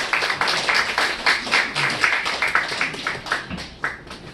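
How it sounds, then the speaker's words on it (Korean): A church congregation at a Korean Sunday community worship service claps together in a steady, rhythmic round of applause that continues throughout at moderate loudness in a reverberant hall. "박수 한번 합시다."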